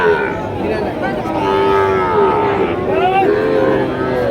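Cattle low in drawn-out, wavering moos over the steady roar of the crowded Panchbibi livestock market, selling Sahiwal bull calves, with voices chattering in the background.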